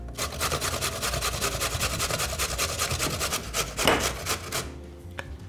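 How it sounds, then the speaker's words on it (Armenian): A carrot is rubbed against the large holes of a coarse grater in fast, even strokes, making a close, loud rasping rhythm that continues for several seconds before stopping. "Քերում ենք սկզբից գազարը խոշոր անցքերով։"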